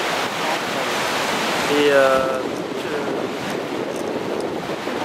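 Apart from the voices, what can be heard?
ocean waves on the beach at Essaouira, Morocco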